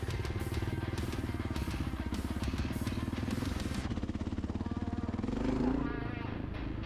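Honda XR650L dual-sport motorcycle on Tusk D-Sport tires, riding along with a steady, droning single-cylinder engine note close by and continuous wind rush, the pitch rising slightly near the end.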